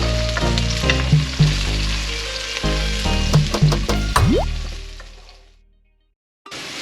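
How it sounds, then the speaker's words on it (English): Chopped onion frying in a pan gives a loud, steady sizzle with scraping stirs and clinks on top. The sizzle fades out to near silence, then a louder burst returns at the end. "We don't really need to brown the onion. We just want it to cook a little bit before we add the spice paste in."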